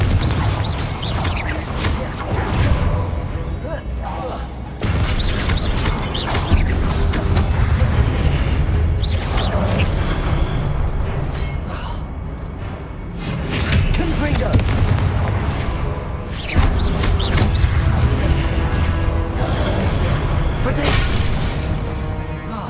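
Repeated booming, shattering blasts of the Confringo explosive spell in the video game Hogwarts Legacy, loud and dense over a continuous layer of combat noise, breaking off in sudden cuts between bursts.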